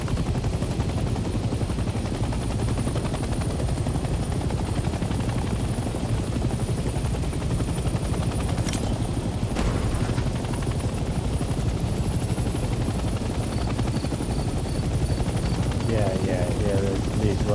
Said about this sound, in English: Let's land the helicopter on a helipad and turn the engine off.